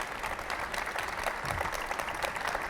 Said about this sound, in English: a salve of applause for you guys